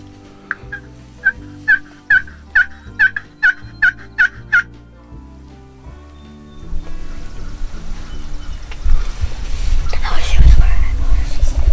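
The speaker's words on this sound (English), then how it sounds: "What do you think all these turkeys gobbling and cutting and yelping?" Wild turkeys gobbling in the Ozarks during a spring hunt, a rapid series of about nine loud, rattling gobbles close by, followed by rustling, breathy movement and handling noise with no clear speech.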